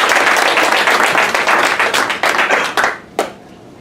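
An audience applauds at a motivational talk, a dense wash of clapping that thins into scattered claps and stops, followed by one last lone clap after a short pause.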